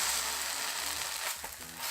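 Cabbage jeon, a Korean cabbage pancake in a flour batter, frying in oil in a pan while being pressed down to brown, with a steady close sizzle and faint scraping.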